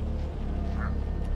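Cartoonish duck quacks from a video game about devilish ducklings, a steady run of nasal calls over a dense, continuous game soundtrack, close and fairly loud.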